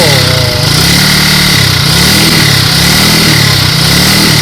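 A mechanic revs a four-stroke engine being checked for exhaust smoke, a loud, close, buzzing engine with rhythmic swells as the throttle is blipped repeatedly, a voice briefly audible underneath.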